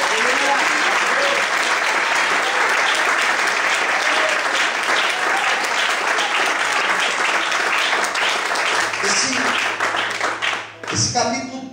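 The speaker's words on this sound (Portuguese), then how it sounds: "aplauda o Senhor e glorifica a Deus" Congregation applauding in a church service, dense sustained clapping filling the space, loud and steady, then tapering at the end as a voice and a low tone come in.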